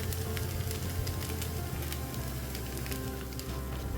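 A ghavan, a thin rice flour crepe, cooks on a pan with a soft, continuous sizzle and faint crackles that hold steady for the whole stretch, close up and without any talking.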